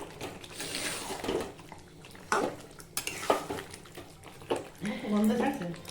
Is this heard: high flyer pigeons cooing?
no